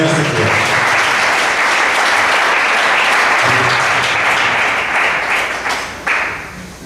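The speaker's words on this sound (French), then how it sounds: "Je vais demander pour applaudir sur le directeur" An audience at the first edition of Jeni Timoun applauds the director, a dense, steady wash of clapping that holds loud for several seconds before thinning and fading near the end.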